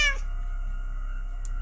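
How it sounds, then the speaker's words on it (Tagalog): A pet cat gives a brief meow at the start, followed by a steady tonal hum and a faint click, with no voices. "sinalubong ako ng alaga kong pusa na si Ming Ming"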